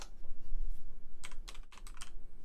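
Computer keyboard keys clack in a quick cluster of about six crisp strokes near the end, close and fairly loud over a low rumbling background hum, with no voice.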